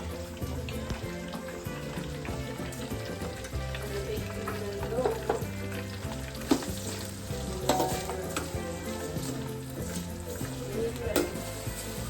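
Curry leaves and garlic sauté in a home-cooking pan with steady sizzling and frying crackle throughout, close and moderately loud, with a low rhythmic musical bed underneath and no speech.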